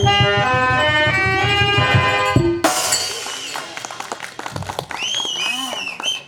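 Audience applause breaks out after a sung devotional performance ends, loud scattered clapping that rises and thins over a few seconds, with some voices underneath.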